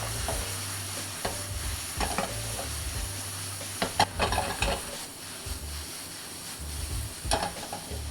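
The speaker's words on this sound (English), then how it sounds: "Now add your sauce and continue to stir until the sauce absorbs into the noodles." Fresh noodles and sauce sizzle in a hot pan while being stirred, steady frying hiss broken by repeated scraping and tossing clatters up close, with no talking.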